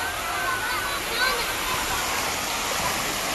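Rushing water pours steadily down a Gwacheon mountain stream in Korea, swollen after the rainy season, a continuous close broadband roar that never lets up.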